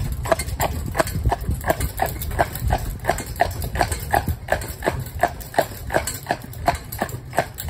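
Steady, evenly spaced hoof clops of a Clydesdale mare walking on a hard road at a regular pace, fairly close, with a low rumble underneath.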